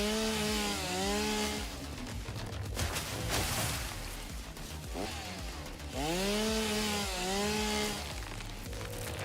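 Chainsaw felling trees in the factory-building game Satisfactory, a loud buzzing drone that runs steadily with rising and falling pitch sweeps as the blade bites into wood.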